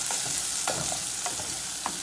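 Tomatoes and onions stirred in a hot pan, a steady sizzle of frying with a few scraping strokes of the spoon at regular intervals, close and continuous, with no talking.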